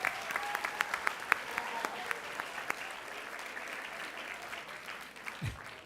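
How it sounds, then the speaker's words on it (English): Attendees at a school board meeting applaud, a modest spread of claps with sharp individual hits standing out early, then settling into a softer, thinner patter that fades toward the end. "Give a big round of applause for Ms."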